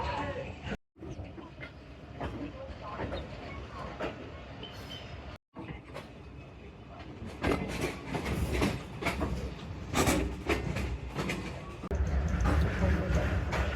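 A passenger train pulls out of a station on the Narowal section and rolls along the rails with a steady rumble and rhythmic clatter that grows heavier toward the end, while someone talks over it.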